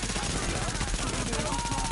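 Rapid automatic gunfire from shooting at enemies in a dark zone video game, dense and continuous bursts filling the whole moment with a steady clatter.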